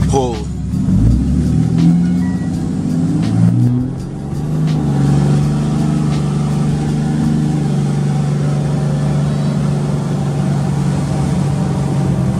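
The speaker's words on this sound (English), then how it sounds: "Saturday morning traffic." Car driving through Saturday morning traffic, the engine's steady hum rising as it accelerates and settling into a constant cruising drone, with someone speaking over the first few seconds.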